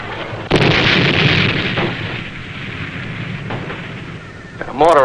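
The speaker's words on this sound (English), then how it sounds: "mortar on us, Lou." Mortar fire in a TV drama: a sudden loud blast followed by a long rumbling, crackling roar that slowly fades, with another sharp burst at the end.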